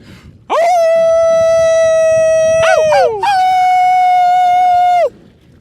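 A person loudly imitates a wolf howl outdoors with echo, holding a long steady tone that wavers and breaks briefly in the middle, then continues before cutting off.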